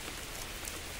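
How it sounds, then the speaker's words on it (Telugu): Heavy rain falling steadily outdoors by a river, a dense, even hiss of drops striking surfaces all around, loud and close with no gaps. "వర్షం చూడు ఏం పడుతుందో."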